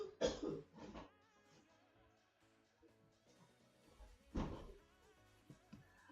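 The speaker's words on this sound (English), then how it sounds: "I'm coughing. Give me one moment." A person coughs in two sharp bursts, a quick pair at the start and another single burst a few seconds later, close to the microphone with quiet background sound between.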